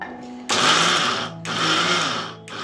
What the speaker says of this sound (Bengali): এদিকে আমি ড্রাই ফ্রুটসগুলোকে একদম গুঁড়ো করে নিচ্ছি